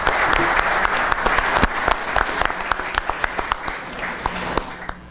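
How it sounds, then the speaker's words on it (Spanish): Audience applause at an engineering ceremony as guests are invited to the stage, with many hands clapping continuously and sharp individual claps standing out near the listener. "Un fuerte aplauso para ellos."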